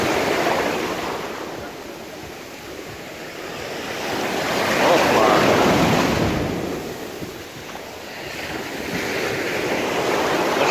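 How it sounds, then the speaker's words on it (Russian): Mediterranean sea waves roll in and break along a stony shore in Turkey, a loud continuous wash of surf that swells and ebbs over several seconds, with some wind buffeting the microphone and no talking. "Пока дойдешь до этого песка, тебя так может шибануть волной."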